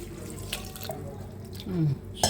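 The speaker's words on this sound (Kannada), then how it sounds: "ಇಷ್ಟು ನೀರು ಹಾಕೊಳ್ಳಿ ಸಾಕು." Water is poured into a pot in a short splashing stream, its pitch rising briefly as the vessel fills, nearby and moderately loud.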